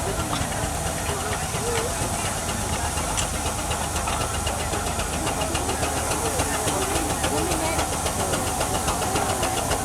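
An 8 horsepower steam traction engine named Saturn runs in top gear in a country show arena, giving a steady loud hiss and rapid rhythmic chuffing, with a faint murmur of people in the background.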